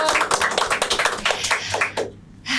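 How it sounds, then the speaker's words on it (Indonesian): A few people clapping for Rinoa: quick, close hand claps in a rapid uneven rhythm, pausing near the end before a last burst, with no talk. "Tepuk tangan lu dong buat Rinoa"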